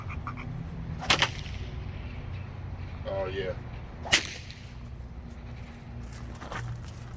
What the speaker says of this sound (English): His whip sounds like a 22 when it's going off